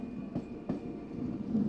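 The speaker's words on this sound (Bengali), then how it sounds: "এই হচ্ছে হাওড়া থেকে আসা প্রথম ট্রেন।" A train arriving from Howrah passes at a distance, a quiet low rumble broken by a couple of sharp wheel clacks over the rails.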